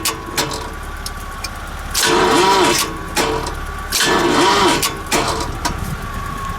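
An RV engine cranking over on a weak battery, heard as a steady grinding crank with two louder, strained surges, close and without speech.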